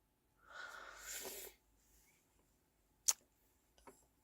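A single quiet, breathy sneeze-like burst, followed by a couple of faint sharp clicks in otherwise near silence.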